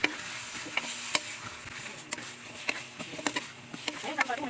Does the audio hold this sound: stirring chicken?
yes